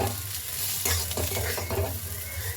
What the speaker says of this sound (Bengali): তো এদিকে আলু ভাজাটা প্রায় হয়ে এসছে